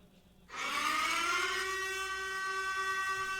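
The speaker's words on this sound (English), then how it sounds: "Silent Hill Sirens. That's exactly what that is." A Silent Hill style siren from a horror video game teaser starts abruptly after a brief quiet moment, then holds as a loud, sustained, rising wail with many steady tones that continue to the end.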